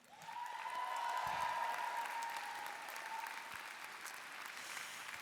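Audience applause at a university graduation ceremony fills a large hall, a sustained wash of many hands clapping that swells and then holds steady, with faint voices in the background.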